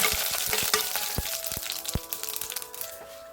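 Mustard seeds and three dried chilies fry in coconut oil for a potato curry, a loud sizzle studded with sharp popping and crackling bursts that thin out toward the end.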